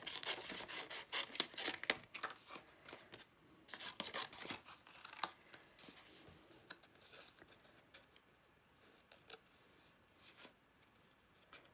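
Close, quiet snips of scissors cutting through card, a run of irregular crisp clips and rustles that gradually grow softer and sparser.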